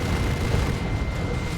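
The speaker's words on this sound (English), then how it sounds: "Assault Cannon Barrage is quite nasty." Rapid barrage of deep, booming explosions from an assault cannon in the strategy game Dawn of War 2, loud and dense with no break.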